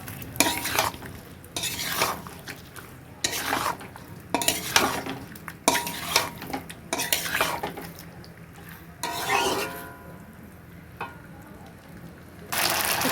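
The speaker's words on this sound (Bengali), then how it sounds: "দিয়ে একটু নাড়ানাড়ি করবো।" Gravy chilli chicken with meat pakoras stirred in a pan: repeated scraping and clinking of a spoon against the metal over a soft sizzle, close and continuous with irregular bursts, no talk.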